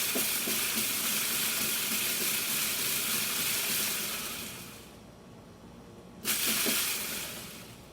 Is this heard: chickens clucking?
no